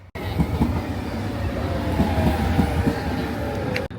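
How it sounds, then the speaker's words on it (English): Metro train pulling into a station near Disneyland Paris, a steady loud rumble with rhythmic wheel clatter and squealing over the whole stretch, ending in an abrupt cut. "now we're just waiting for the metro to arrive"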